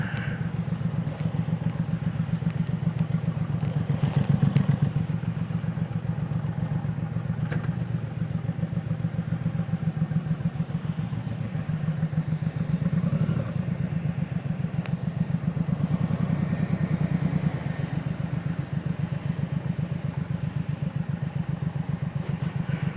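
A Suzuki M109R twin turbo motorcycle on a commute, its engine a steady low, loud throb that swells and eases slightly throughout, with light clatter and no talking.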